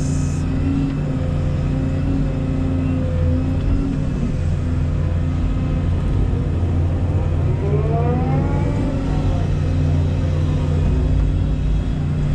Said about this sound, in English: I'll run over all this with the dozer and the ruckus rake